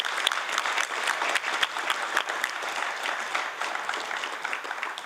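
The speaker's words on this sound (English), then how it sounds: "so a round of applause for you." An audience at an aviation sustainability summit gives a steady round of applause after a talk, with crisp individual claps at moderate volume fading slightly toward the end.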